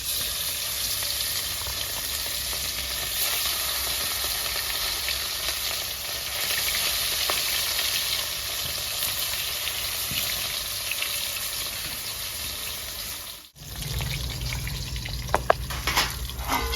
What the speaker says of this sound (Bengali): তো গরম হয়ে গেছে, মাছটা ভেজে নেবো